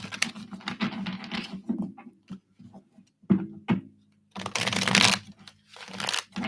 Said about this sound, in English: I do want to pull a couple more cards here for you.